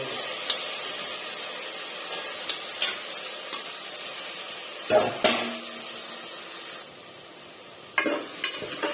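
Chopped cluster bean pieces simmering in hot oil in a pan, giving a steady close sizzle with occasional stirring scrapes and clinks.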